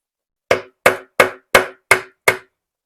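A hammer strikes a RTV-sealed part on a BMW 750i N63 V8 engine six times in an even rhythm, each a sharp, loud, close metallic knock that decays quickly, with no talking.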